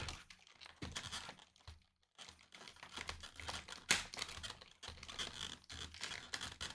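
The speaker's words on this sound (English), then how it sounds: "Maybe I have to go really, really deep with the scissors to get this thing." Scissors cut and tear through the packaging of a McFarlane Toys 1/6 scale Jim Lee Superman statue box, giving close, irregular crinkling, snipping and scraping bursts with a sharp snap near the middle.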